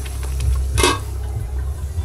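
Sliced onions sizzling in hot oil with bay leaf, cinnamon, black and green cardamom and cloves, a steady close crackle with a brief scraping stir, and no talking.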